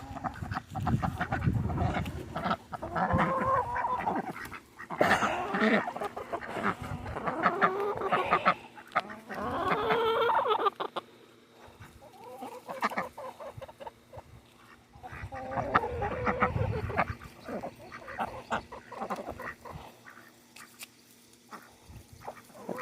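Chickens at a small farm coop, offered fresh greens, clucking and squawking in several bursts across the scene, fairly near and moderately loud, with quieter gaps between the flurries.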